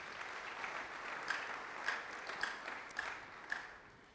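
A church congregation claps in a faint, distant, loosely rhythmic beat, with the individual claps landing about every half second under a soft roomy hiss.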